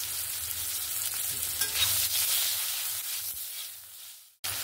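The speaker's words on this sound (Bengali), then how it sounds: "আলু দিয়ে আলুটাকে আমি ভেজে নিচ্ছি" Potato pieces fry with salt and turmeric in a little oil, a steady hiss of sizzling with occasional stirring, fading lower before a brief cut and resuming at the very end.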